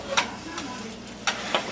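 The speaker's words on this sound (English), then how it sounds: "So we just want to kind of stir it until it's almost done." A utensil stirs eggs with potatoes, onion and sausage in a frying pan, giving a few soft scraping strokes over a steady low sizzle, close up and without talk.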